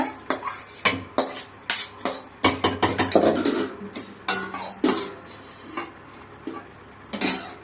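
Green chilies, tomatoes and other chutney ingredients clatter into a mixer grinder jar in a quick series of sharp metallic clinks and knocks, loud and close, with no talking.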